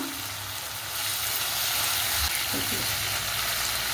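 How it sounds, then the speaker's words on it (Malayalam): Onion and ginger frying in a pan, a dense continuous sizzle that swells after the first second, with a faint clink of a utensil partway through. "കണ്ടോ ഉള്ളി ഇഞ്ചിയൊക്കെ ഒരുവിധം നന്നായിട്ട് മൂത്തൊരു മണം വരുന്നുണ്ട്"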